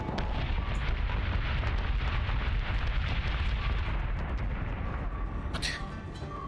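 Ship guns and flak blaze in a Battlestar Galactica Deadlock space battle, a dense, continuous barrage of booming blasts and crackling bursts held at a steady loud level, with faint voices underneath.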